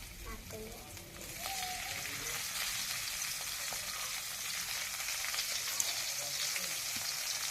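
Potatoes and tomatoes frying in a pan make a continuous sizzle with a crackly, rain-like texture, a few light stirring knocks early on, close and steady, with no voices.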